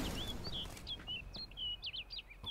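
A bird chirps in The Witcher 3: Blood and Wine, a string of short, bright high tweets repeating across the clip, fairly faint over a low ambient hum.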